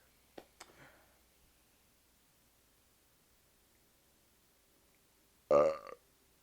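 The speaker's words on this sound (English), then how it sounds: "It's a resounding belch." After a couple of faint clicks and a long near-silent pause, a single short belch sounds close and fairly loud at the end.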